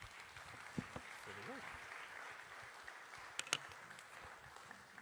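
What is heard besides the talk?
audience applause at a book talk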